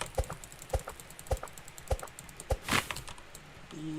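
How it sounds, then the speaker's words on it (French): Axe chopping a tree in the video game 99 Nights in the Forest: five evenly spaced sharp thwacks, one roughly every 0.6 seconds, followed by a brief rustling crash and a soft tonal game cue at the end. "Moi, j'ai le temps de couper un dernier arbre."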